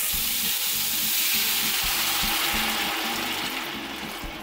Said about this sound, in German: als nächstes löschen wir das Ganze jetzt ab mit ein bisschen Brühe